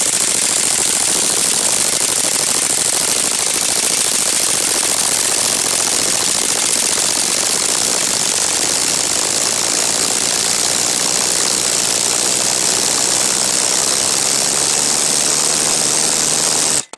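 A 1988 Dodge Dakota's 2.2-liter engine idles with a straight-pipe exhaust after the muffler came loose, a loud, raw, continuous rumble with a rough, buzzy edge holding steady close by until an abrupt stop.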